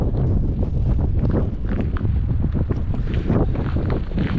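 Strong wind gusting on the Black Sea coast at Novomikhaylovsky in winter, a loud steady roar buffeting the microphone with possible surf beneath, no speech.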